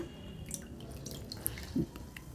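Water drips and trickles briefly from white bread soaked in a bowl of water and squeezed out for a Bengali bread and fish chop, with one short, faint splash near the end against quiet kitchen background.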